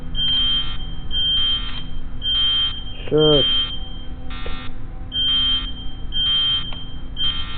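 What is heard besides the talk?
alarm buzzer beeping in a video game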